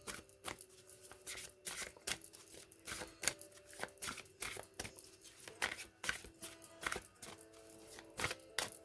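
A deck of playing cards being shuffled by hand at a card table, giving repeated crisp riffling bursts and snaps at close range, with no talking.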